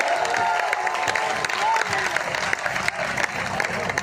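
An audience applauds at a Hindi comedy poetry gathering, a dense, steady wash of clapping with crowd murmur throughout, fairly loud and close, with no break.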